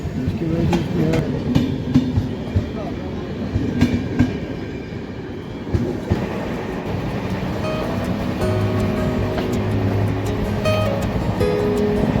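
Wheels of the Sachkhand Express, stopped at a small station crossing, rumble and clatter as a passing train goes by close at hand. The noise is continuous and dense, and a faint whine rises toward the end.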